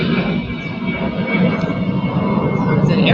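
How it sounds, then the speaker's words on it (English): A fixed-wing airplane passing overhead, a steady broad rumbling roar that holds through the whole stretch at fairly loud level, with no talk over it. "It's an airplane."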